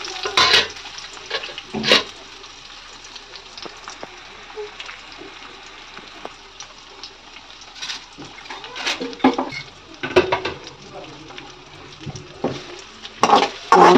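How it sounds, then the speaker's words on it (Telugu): Fenugreek seeds, onion and green chillies frying in oil for a cabbage fry, heard as a soft, continuous sizzle with intermittent scraping stirs and a few louder clatters of the spoon against the pan. "తర్వాత కొంచెం తిరుమతి గింజలు, ఆనియన్, పచ్చిమిరపకాయలు,"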